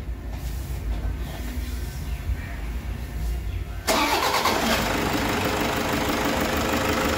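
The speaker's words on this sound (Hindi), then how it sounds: "करते हैं स्टार्ट गाड़ी को," A Toyota Innova engine cranks and starts midway, jumping into a loud steady idle with a rough mechanical rumble, after an engine overhaul for a seized piston.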